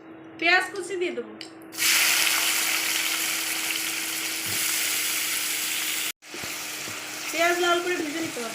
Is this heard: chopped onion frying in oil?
yes